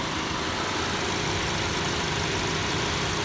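A 2008 Chevrolet HHR wagon's 2.4-liter Ecotec engine idles in a steady, even drone, heard close with constant broadband noise and no talk.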